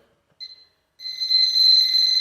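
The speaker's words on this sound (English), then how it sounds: "I'm not even standing in that room and the meter is going off." A refrigerant leak detector meter alarms near an air conditioning coil with a short high electronic beep, then a steady, loud, rapidly pulsing high-pitched tone that runs on without a break and has no voices over it.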